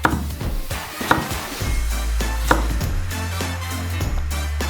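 Knife slicing potatoes into planks and then brick-shaped pieces on a cutting board, a series of sharp chopping taps at an irregular rhythm over a steady low background hum.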